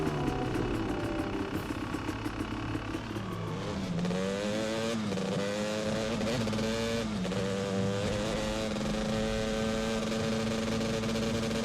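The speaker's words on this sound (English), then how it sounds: "You can't hear it over the roar of my engine" In the PlayStation 3 game Haze, a motorcycle engine roars and revs, its pitch rising and falling in sweeping harmonic bands over a loud, continuous drone with no talking.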